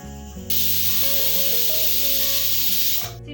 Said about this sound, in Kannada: ಲಿಡ್ ಕ್ಲೋಸ್ ಮಾಡಿ 1 ವಿಷಲ್ ಕೂಗಿಸ್ಕೋಬೇಕು